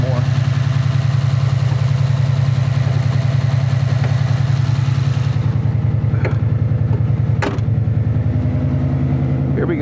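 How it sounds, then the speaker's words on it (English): Ford Mustang with a Coyote V8 idling loudly at close range, its exhaust giving a steady deep rumble that persists throughout, with a few brief clicks and knocks over it. "I'll let you listen to the exhaust some more."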